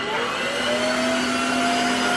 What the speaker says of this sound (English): because it is a vacuum cleaner as well, it does pick up some small stuff, small hair, small fibers